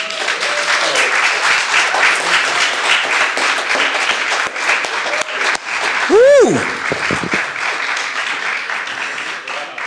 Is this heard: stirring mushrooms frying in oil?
no